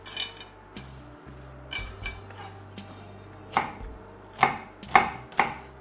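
Knife chopping shallots on a cutting board, a low hum running underneath, then several sharp, close knocks in quick succession toward the end.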